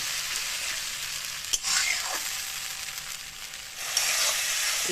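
Spices and okra sautéing in a pan, a steady hiss and sizzle with a couple of sharp spatula scrapes and knocks against the pan.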